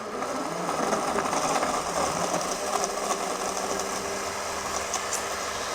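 BlendJet 2 portable blender running, a loud steady motor whir with a constant hum and buzzing texture that holds evenly throughout, with no talk.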